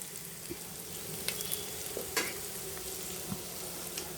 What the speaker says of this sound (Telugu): ఇలా తగినంత కారం వేసి కొంచెం బాగా ఒక 2 నిమిషాలు ఇలా నూనెలో గోలించాలండి